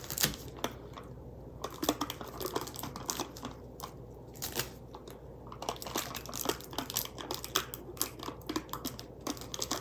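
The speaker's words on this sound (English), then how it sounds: "attach it back on to the side with the wax paper with some tape" Wax paper is crinkled and pressed against the side of a cardboard box while tape is pulled and stuck down, a steady run of close, dry crackles and sharp rips and taps with no talking.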